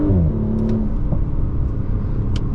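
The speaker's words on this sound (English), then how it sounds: "Got the pops coming out of the turn, full throttle." A 2020 Audi S4 Prestige with its 3.0T engine pulls hard at full throttle out of a turn, its steady engine drone broken by a few brief, sharp exhaust pops and crackles.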